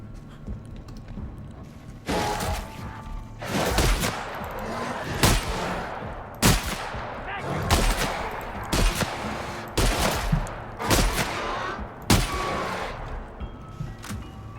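Repeated shotgun blasts from The Outer Worlds game, about a dozen loud heavy booms fired in an uneven rhythm roughly a second apart, close and dominant with only faint talk underneath.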